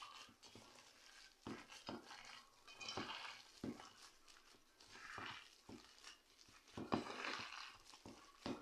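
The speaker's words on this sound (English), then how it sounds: "So we're just mixing in our vegetables and the egg that we put in." Meatloaf mixture being stirred by hand with vegetables and egg folded in, giving soft wet squelching and scraping with occasional clinks of a utensil against the bowl, fairly quiet and steady without talk.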